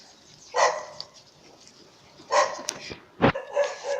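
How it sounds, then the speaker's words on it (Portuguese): Several dogs barking as they are walked past, a few sharp separate bursts and yips spaced over four seconds at moderate distance, with quiet pauses between them and no talk. "a mulher passou com 300 cachorros que tava latindo, eu gravei eles pra você"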